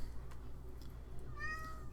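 A cat meows with a rising, harmonic cry near the end, close and fairly clear over a low steady background hum, with a fainter earlier call.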